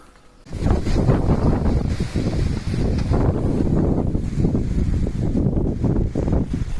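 Strong, sudden wind gusts buffet the microphone outdoors by a vineyard, a loud rumbling rush that starts abruptly and surges and eases for several seconds.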